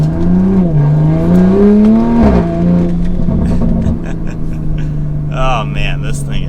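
A 600 WHP wide-body Toyota Supra engine revving hard while driving, loud rising and falling engine tones climbing then settling into a steady drone, with a voice briefly audible near the end.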